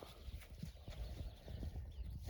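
Faint hoof clops from horses moving nearby, an uneven series of soft thuds over low background noise.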